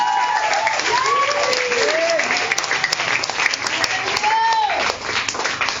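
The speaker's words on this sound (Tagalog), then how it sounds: "Ba't di kayo pumapalakpak kay Kristo Jesus?" Church congregation at a Sunday service applauding steadily, a dense continuous wash of clapping with voices and shouts rising over it, holding at full volume for several seconds.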